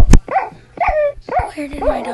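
A dog in the Minecraft video game barks and yips in short bursts, three or four quick calls close and loud.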